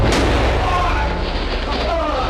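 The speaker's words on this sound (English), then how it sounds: "mob crony Jack Ruby gunned down Lee Harvey Oswald" Single gunshot from archival news footage of Jack Ruby shooting Lee Harvey Oswald, a sharp bang near the start over a loud, noisy crowd and broadcast hiss with voices throughout.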